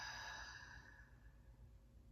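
A slow, deep exhale drifts out softly and alone during a guided body-scan breathing exercise, a single breathy sigh that fades over about two seconds.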